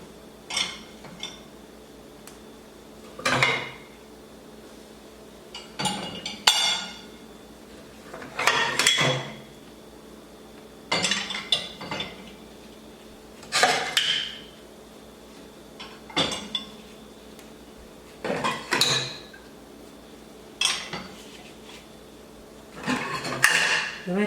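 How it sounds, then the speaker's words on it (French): Dishes being loaded into a home dishwasher, leaving out the cooking pots: a series of separate clinks and clatters of plates and cutlery landing in the racks every couple of seconds, fairly close, with no talk. "je vais mettre la vaisselle dans la machine."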